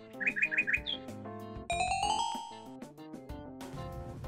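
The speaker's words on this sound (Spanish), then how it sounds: "el deseo y luego este se transformaba en un sonido de pájaros o en una melodía musical" Synthetic bird chirps from an art installation that turns recorded wishes into bird sounds or melody, a quick run of four chirps followed by sustained tonal, musical notes and layered ringing tones.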